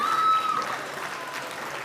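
At a schools' elocution contest, an audience breaks into brief applause as a tone fades out, with moderate clapping that carries on evenly for under two seconds.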